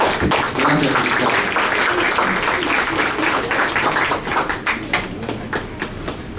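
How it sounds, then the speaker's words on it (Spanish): An audience at a public event gives loud, close applause that sustains for several seconds, then thins into scattered individual claps as it dies away. "Vamos a darle un fuerte aplauso"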